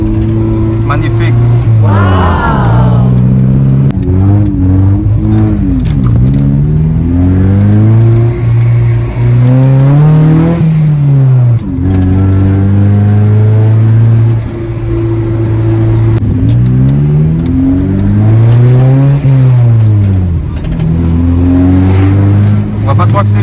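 Engine of a 1995 Honda Civic MA8 on the road, rising and falling through repeated revs and gear changes, loud and steady for the whole stretch with someone talking over it.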